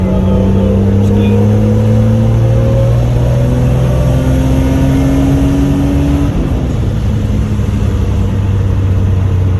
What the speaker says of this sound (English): I give it a little bit of a street rev, which shouldn't be too far